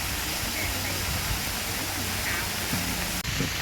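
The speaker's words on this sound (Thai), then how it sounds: "น้ำตก" A waterfall near a cave at a forest temple in Udon Thani roars as a steady, dense rush of water, constant and fairly loud throughout, with faint low voices beneath it.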